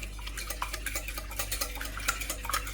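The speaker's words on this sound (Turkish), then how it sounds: "Tuzla yumurtayı iyice birbirine yedirelim" Three eggs and a heaped dessert spoon of salt whisked together in a bowl, a quick rhythmic tapping and clicking of utensil against the bowl, close, over a steady low hum, with no talking.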